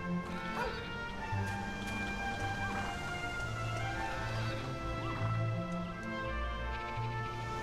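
A dog barks in the Dragon Quest VIII video game: repeated short yips over a dense, constant bed of game music and ambience, with barks fairly faint in the mix.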